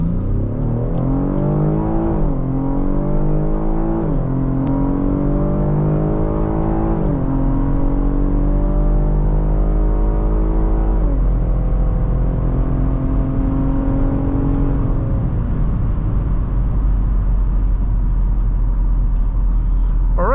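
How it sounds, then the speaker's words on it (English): A 2022 Cadillac XT5 with a 3.6 V6 and AWD accelerates hard from a stop to 60 mph, heard from inside as the engine note climbs and drops through several automatic upshifts, loud and continuous with steady road roar underneath. "let's go down to our Mexico trip and do a quick 0 to 60 test, see how quick this Cadillac is"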